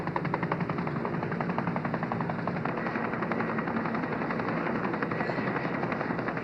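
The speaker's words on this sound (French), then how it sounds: "L'hélicoptère est là." A helicopter arrives at a polar ice-pack setting, its rotor chopping in a steady rapid rhythm with a constant engine drone, fairly loud and continuous with no talk over it.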